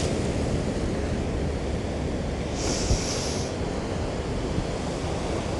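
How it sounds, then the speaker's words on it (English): Choppy ocean waves slapping and washing continuously in a dense, steady roar of surf, with no pauses and a faint hiss layered through the middle. "Enjoy the waves that you hear around you"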